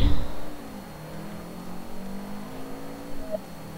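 A race car in Forza Motorsport 3, driven with a manual gearbox, holds a steady engine drone that dips and climbs through shifts, with no talking.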